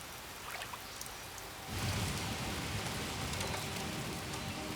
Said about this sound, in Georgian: ჯუნგლებში მაინც კოკის პირულად წვიმს.